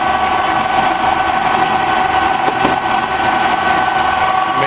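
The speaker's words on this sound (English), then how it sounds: "Now we'll get the spindle going" A Grazioli lathe spindle, driven by a 3-phase motor, runs with a loud, steady mechanical hum and whine, with a faint brief knock partway through.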